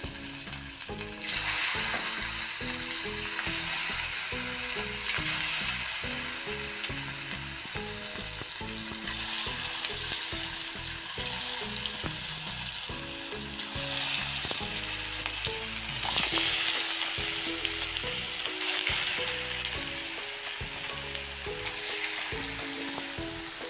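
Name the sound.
chicken pakoras deep-frying in hot oil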